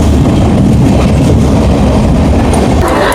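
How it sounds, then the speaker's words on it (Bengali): The Shantiniketan Express, train 12337 from Howrah to Bolpur, runs loud and steady, heard from inside a coach as a constant deep rumble of wheels on rails. "আমরা শান্তিনিকেতন এক্সপ্রেসে উঠে গেছি।"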